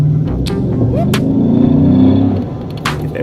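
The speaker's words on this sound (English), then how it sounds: "Y'all heard that LS motor?" An LS V8 engine in a vehicle cruising on the road gives a steady, loud low rumble from inside the cabin, with brief road and wind noise layered over it.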